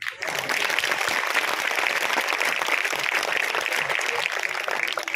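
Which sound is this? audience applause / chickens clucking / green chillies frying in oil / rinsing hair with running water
audience applause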